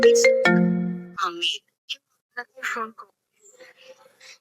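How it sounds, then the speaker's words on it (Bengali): A mobile phone ringtone plays loud and clear as a melodic ringing at the start, lasting about a second, before a voice speaks sparsely in a quiet room. "ফোন দিল কেডা?"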